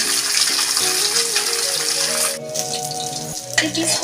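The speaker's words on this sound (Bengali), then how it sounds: "মাছটা ভালো করে আমি ভেজে নেব" Pieces of katla fish fry in hot oil, a loud, dense crackling sizzle close up that shifts in places, with brief clatter near the end.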